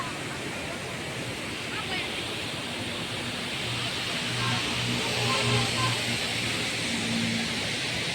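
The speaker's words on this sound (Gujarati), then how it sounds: "પાણીનો ધોજ કેવો જાય છે, જોવો અહીંયા આગળ" Flowing water rushes steadily in a dense, even wash of noise, with faint voices murmuring underneath.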